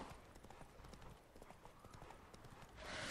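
Horse hooves clip-clopping steadily on the ground in The Witcher 3, a continuous brisk rhythm of hoof strikes running throughout with some ambient game noise.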